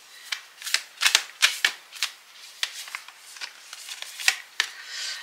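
Tarot cards are shuffled in a series of crisp riffling bursts, close and fairly quiet, each flurry of snapping card edges separated by short pauses, with no voices.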